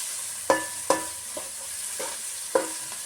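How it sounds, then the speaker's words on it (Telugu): Ginger garlic paste frying in a pan while being stirred, with a steady soft sizzle under a few sharp scrapes of a spoon against the pan, close and fairly loud, no talk. "అల్లం వెల్లుల్లి పేస్ట్ కొంచెం పచ్చి వాసన పోయే వరకు వేయించుకుందాం."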